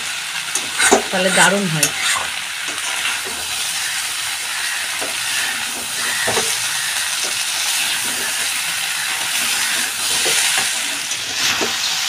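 Onions and meat fry together in a pan, a steady close sizzle and hiss with stirring scrapes, while a voice speaks briefly near the start.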